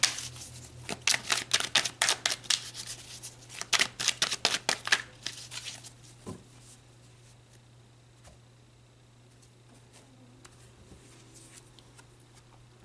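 A rapid flurry of crisp card riffles in two bursts, close up, followed by quieter handling and soft taps against a faint steady hum.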